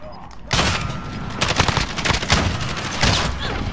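Loud, close bursts of shotgun fire in a Star Wars video game, with repeated blasts and a sustained barrage over a continuous rumble while a person talks.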